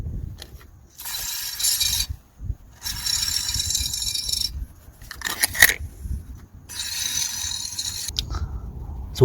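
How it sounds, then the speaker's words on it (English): A ratchet wrench with a 21mm socket works a nut on a Volvo XC60 lower suspension control arm, giving several bursts of rapid clicking and metallic rattling separated by short pauses. "I'm locking the nut at the top with this 21mm socket"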